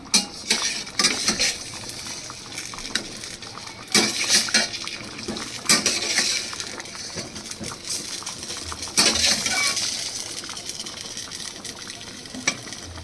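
Fried potatoes go into a pot of chicken kosha, with clattering spoon-on-metal scrapes, stirring and knocks over a soft sizzle, the louder clanks coming in bursts.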